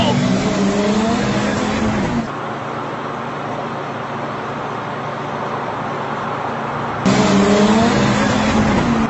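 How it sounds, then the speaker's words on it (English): A car running out of control: a loud, strained engine with tires squealing, broken by a stretch of rough, noisy rumble before the squealing engine returns. Voices can be heard under the noise. "No time for jokes, Paul! The car's out of control!"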